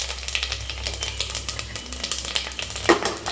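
Masala spices frying in hot oil in a pressure cooker, with a steady crackling sizzle, small popping bursts and a few light metallic clinks near the end.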